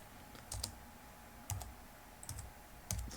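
Someone types a command on a computer keyboard: short bursts of crisp key clicks, a few quick taps in clusters with pauses between, close and alone.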